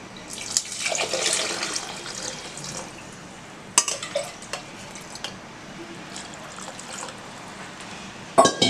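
Water pours and splashes into a pot for mutton rib bone soup, a steady close wash of liquid noise with a few clinks and knocks of utensils toward the end.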